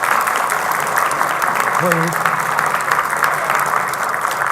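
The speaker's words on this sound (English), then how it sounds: "everybody else is going to clap for you" Steady applause from an audience clapping for guests standing up at a product demonstration, loud and continuous throughout, with a brief voice speaking over it.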